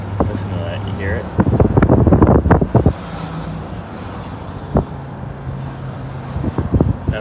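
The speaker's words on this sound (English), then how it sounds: "Not only is the power steering whining" A steady power-steering whine drones from a 1969 Ford Country Squire while it is driven with leaking power steering, sitting under engine and road rumble with some brief talking and a few knocks.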